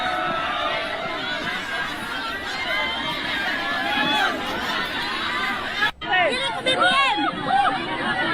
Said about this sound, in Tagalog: Nagkagulo daw mga tao dito dahil daw sa pila.